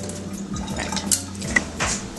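Rinsed rice water being strained from a pot in a kitchen, a short burst of splashing and pouring with light metallic clinks from the cookware, close and fairly loud.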